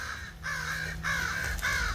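Crows caw by an apple tree laden with fruit: three loud, harsh calls in quick succession, close and clear with little else around.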